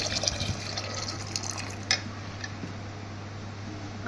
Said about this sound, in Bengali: এবারে এমনভাবে জল দিতে হবে যেন তরকা ডালগুলো ডুবে যায়